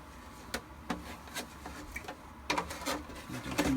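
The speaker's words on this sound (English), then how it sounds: "I'm going to use the curved scissors to get around this curve here." Quiet, sharp snips and clicks of curved scissors cutting through plastic armor, coming in an irregular series of close, crisp cuts.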